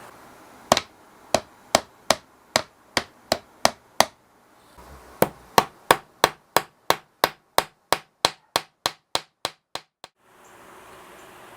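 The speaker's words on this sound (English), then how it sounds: "I'm going to start by just hammering in the brass tube" Brass tube fret markers are hammered into a guitar fretboard with sharp, evenly spaced metallic taps, about two dozen blows in two steady runs with a brief pause between, close and loud with no talking.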